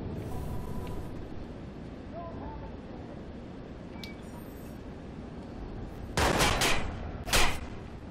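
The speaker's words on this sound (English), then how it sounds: "Where are you all shooting at?" Bursts of gunfire in the Watch Dogs video game, with broadband cracks clustered near the end and a longer loud burst, over continuous background noise and some voice activity.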